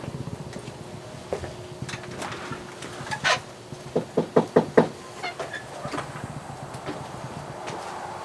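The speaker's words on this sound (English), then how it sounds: "I'm just gonna go knock on the door" A quick series of sharp knocks on a door lands in the middle, close and distinct. Faint handling noises come before the knocks and scattered lighter taps follow them, with no talking.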